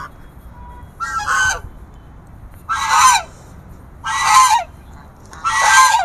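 Several loud honking calls from domestic ducks or geese at a college in Islamabad, four separate bursts spaced about a second apart, close by with quiet between them.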